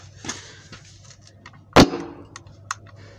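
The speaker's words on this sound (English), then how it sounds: "Quite a gunshot from a little speaker." A small speaker blowing out during an electronic component test gives one sharp gunshot-like bang near the middle, loud and close, followed by a faint click over a low steady hum.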